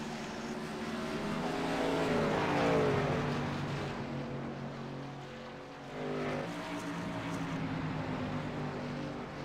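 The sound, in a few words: pace car and race trucks driving on oval track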